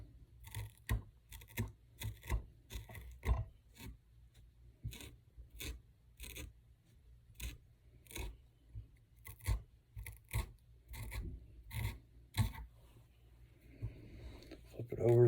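A comb is pulled repeatedly through synthetic fly-tying material on a Hotrod Deceiver fly, making a steady rhythm of short, close rasping strokes, soft and dry, with a voice faintly underneath.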